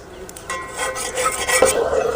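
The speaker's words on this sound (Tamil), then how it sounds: "சக்கரை போட்டால் அடி பிடிக்கி நல்லா கிளறிக்கணும்" Spoon stirring sweetened coconut milk payasam in a pot, a close scraping and rasping against the pot bottom that grows louder as the stirring quickens, with a faint bubbling simmer underneath.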